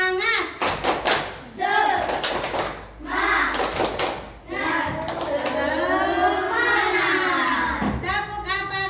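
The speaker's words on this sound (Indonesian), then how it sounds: "kita dulu mulai tepuk semangat" A school class claps in a quick rhythmic spirit-clap pattern together with loud chanted voices, with bursts of claps between the shouted phrases.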